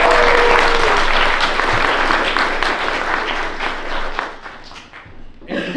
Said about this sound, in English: Can you give our panelists a round of applause?